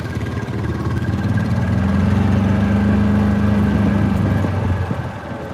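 John Deere 830 two-cylinder tractor engine, part of a fifth-wheel scraper tractor, running steadily with a loud, close, low throbbing drone that holds for several seconds and eases off at the end.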